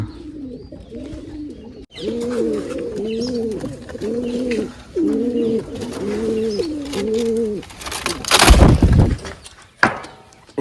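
Pigeons coo close by in a run of repeated rolling calls, followed by a sharp rustling crash near the end, in a rural Gujarati setting with a partridge kept beside the pigeons.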